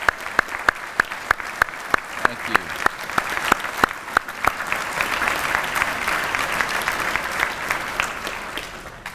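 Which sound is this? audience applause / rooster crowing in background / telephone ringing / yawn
audience applause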